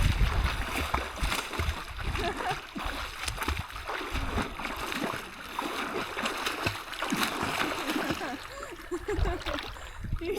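People swim and splash in open water outdoors, with irregular sloshing and splatters close by and voices chattering intermittently over the water.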